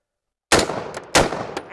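Two sharp rifle shots fired at an outdoor range at body armor made from bullet primers, each a loud close crack with a short ringing tail, the second about half a second after the first.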